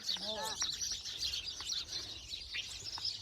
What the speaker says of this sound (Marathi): चिमण्यांचा किती कालवा उठलाय